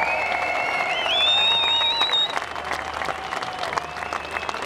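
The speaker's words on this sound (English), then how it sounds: "So give yourself a round of applause." Crowd applause and cheering at an outdoor Right2Water demonstration in Dublin, with loud, dense clapping, whistles and shouts that ease off slightly toward the end.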